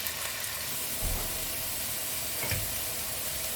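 Hot oil sizzles steadily around potatoes frying in a pan for a Bengali vegetarian aloo potol curry, with a couple of soft low thumps from stirring.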